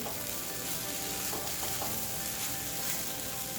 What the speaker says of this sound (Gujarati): હવે આપણે એના અંદર ઝીણી સમારી કોથમીર એડ કરીશું અને આપણે મિક્સ કરી લઈશું